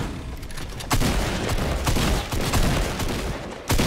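Gunshots in Fortnite fire in loud, rapid bursts, with sharp cracks repeating over a dense, continuous rattle of weapon noise.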